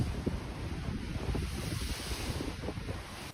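Strong wind buffets the microphone over a constant roar of waves and open water on San Francisco Bay, aboard a cruise ship, with no voices.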